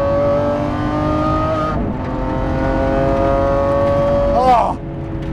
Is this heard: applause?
no